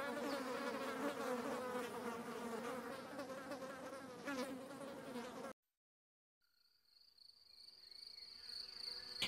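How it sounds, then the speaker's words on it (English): Dense, steady insect buzzing fills the clip, cuts out briefly, then returns with a thinner high whine. "The flies on the wall."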